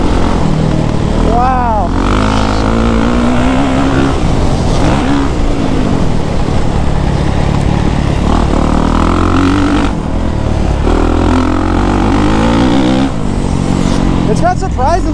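A 2023 Kawasaki KX450SR dirt bike engine revs and accelerates hard up close, loud and continuous with rising and falling pitch, while a rider shouts over it.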